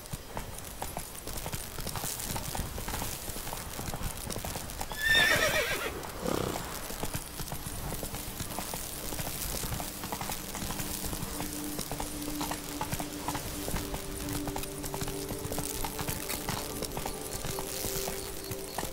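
Roach the horse in The Witcher 3 moves along with continuous hoofbeats, and a loud whinny rises partway through over a dense game soundscape of ambient music and effects.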